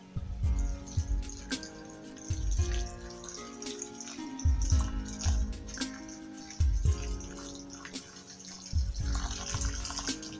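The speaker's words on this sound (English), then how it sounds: "make sure you wash or rinse your pinto beans" Pinto beans being rinsed under running tap water in a kitchen sink, a steady close splashing stream with uneven surges and gurgles, no voices.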